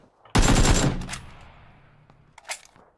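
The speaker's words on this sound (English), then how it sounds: "I was testing the AK. Recoil on it." A short burst of AK rifle fire in PUBG, loud and close, a rapid string of shots lasting about half a second that decays into a tail, followed by a faint click.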